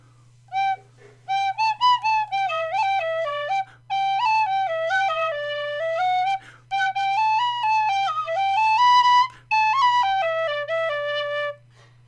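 Tin whistle notes played in quick phrases, each started and cut off with glottal stops, giving clipped, separated tones in a bright, close, solo line over a steady low hum.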